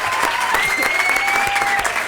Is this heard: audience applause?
yes